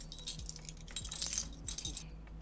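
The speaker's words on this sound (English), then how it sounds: "Are you playing with your keys? Yes. It's very loud." Keys jingling and clinking close by during a live gaming stream, a bright metallic rattle in short bursts that grows busier and louder midway, then thins out.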